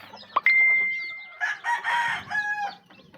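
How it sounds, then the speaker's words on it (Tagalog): A mother hen with her chicks lets out a loud, drawn-out call followed by choppy clucking phrases, close by, while faint cheeping chicks sit in the background. "Yan nga yung talagang nanay ng mga sisiw natin"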